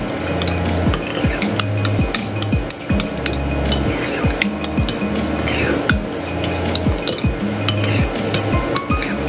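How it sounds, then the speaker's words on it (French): A spoon clinks steadily against a bowl while a fish marinade is stirred, with repeated rhythmic metallic taps and scrapes close up and loud throughout, with no talking. "Et vous allez bien remuer comme ceci."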